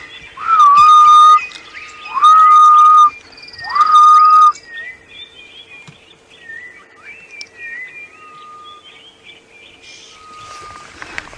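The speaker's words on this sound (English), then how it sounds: "And you've got the ghost bird, the grey-headed bushshrike." A grey-headed bushshrike on a sunrise safari drive gives three loud, drawn-out whistled hoots in a steady rhythm, followed by fainter chirps and calls from other birds in the background.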